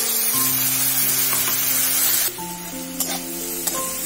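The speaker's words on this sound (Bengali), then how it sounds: "মশলাগুলো দিয়ে একটু আমি জল দিচ্ছি।" Spices frying in a pan as a splash of water goes in, a loud dense sizzle that drops to a quieter hiss halfway through, with a few faint clinks.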